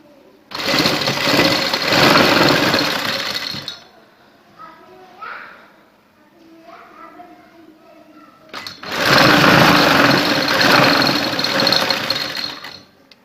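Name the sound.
sewing machine stitching lace onto fabric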